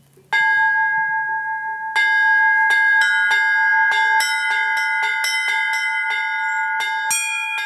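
A bell ringer strikes a set of church bells, a sustained low bell humming beneath a series of sharp, bright strikes in an irregular, somewhat uneven rhythm, loud and close with nothing else heard.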